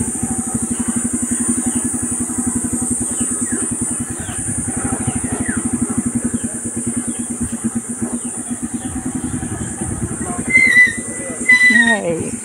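A motorcycle engine thumps in a steady, rapid rhythm while the bike rides a rough dirt road covered with bamboo in Ternate, Cavite. The engine stays loud and close throughout, with someone talking briefly near the end.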